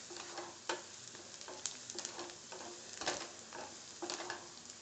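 Vegetables for black pav bhaji roast in a pan over a very high flame, giving a steady sizzle broken by repeated scraping stirs and clinks of a spatula, close up with no talking.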